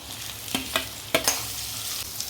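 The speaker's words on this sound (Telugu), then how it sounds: "ఆనియన్స్ వేగాయండి, దొండకాయలు వేసుకుందాం" Onions and ivy gourd frying in a pan, with a constant hiss of oil and a few sharp scraping strokes of stirring, close by and without talk.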